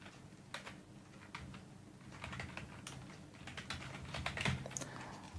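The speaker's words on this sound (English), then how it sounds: "And I'm typing a Gmail account." Quiet, irregular clicking of keys on a computer keyboard, with short bursts and pauses against a faint background hum.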